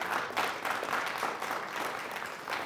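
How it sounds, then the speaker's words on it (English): Game show audience applauding after a contestant advances, a soft, steady wash of many hands clapping at a moderate distance, fairly even in level with no speech on top. "That is the cue for applause."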